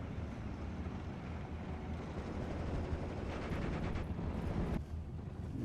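Bombs exploding around half-tracks in Steel Division: Normandy 44, heard as a dense, continuous low rumble of blasts and gunfire with rattling bursts and a sharp dip near the end.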